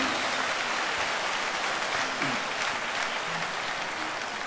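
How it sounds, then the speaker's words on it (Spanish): A congregation applauds in a church gathering, the clapping thick and steady throughout, close and loud, with faint vocal sounds mixed in. "El aplauso que se merece el Espíritu Santo."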